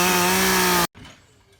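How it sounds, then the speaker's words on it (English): Chainsaw cutting driftwood outdoors, a loud steady buzzing engine whine held close for under a second before it abruptly stops, leaving faint background noise. "Me and a couple guys went with the chainsaw, got some other wood."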